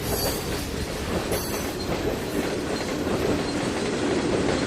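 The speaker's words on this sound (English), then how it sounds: "The old flange squeal in there." A passing video game train of Burlington Northern locomotives rumbles steadily with broadband rolling noise and faint high-pitched wheel flange squeal on top, heard from a distance without voices.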